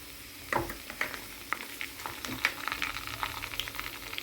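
Curry leaves crackle in hot oil for a coriander chutney, with soft scattered pops and a low steady sizzle, quiet and close.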